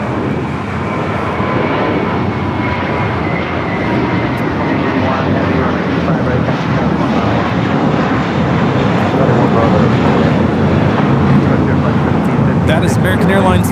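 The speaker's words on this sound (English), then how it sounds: "That is American Airlines Flight 4 taking off to JFK on the A321." An American Airlines Airbus A321 takes off from a busy airport, a loud sustained jet engine roar that swells slightly and fills the whole stretch without a break.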